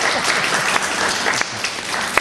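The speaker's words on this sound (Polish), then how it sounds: "Absolutnie na nas brawo." Steady applause from a meditation gathering fills the whole stretch, dense clapping at an even level with a few sharper claps standing out.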